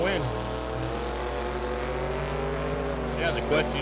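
Engines drone steadily at a drag race, with a pickup truck accelerating among the cars and the pitch rising gradually. The engine noise runs loud and continuous, with a brief crackle near the end.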